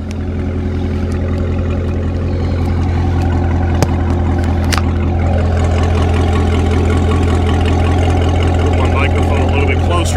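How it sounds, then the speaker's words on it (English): A Chevrolet C7 Corvette fitted with an Akrapovic exhaust idles nearby, a loud, deep, steady rumble running unbroken throughout, with a couple of faint clicks on top. "Just listen to the idle."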